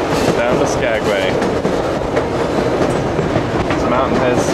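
A scenic mountain train running between British Columbia and Skagway, Alaska, gives a steady loud rumble with rhythmic clickety-clack of rail cars throughout, mixed with faint voices.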